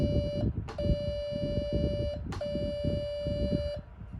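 A Nokta Deep Hunter metal detector, under repair, sounds off over a non-ferrous target with loud, steady electronic tones broken by two short gaps, set against a rumbling background.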